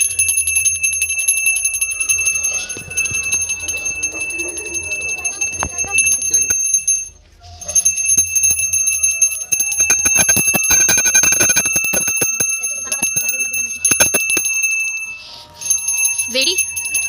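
Small bells ring in repeated bright jingles during a Hindu puja for the Satyanarayan Katha vrat at home, continuing through the passage with brief pauses while people talk nearby.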